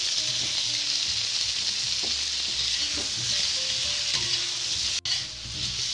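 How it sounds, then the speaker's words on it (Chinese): Scallion whites and tomato sizzle in a small amount of hot oil in a wok for a tomato and tofu dish, a loud, steady frying hiss throughout with one brief clack near the end. "油热后葱白先下去，让它爆爆香，然后前后脚番茄就下了"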